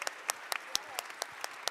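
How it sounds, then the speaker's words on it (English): Applause from an audience at an interfaith community convening, heard as sparse separate claps spread over less than two seconds, faint and thin rather than a full ovation. "A round of applause for our panelists"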